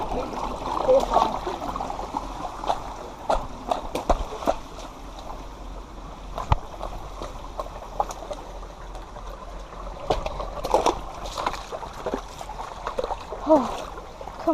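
Creek water trickles and splashes over rocks in a large creek bed behind a house, a steady close wash running throughout while people talk over it.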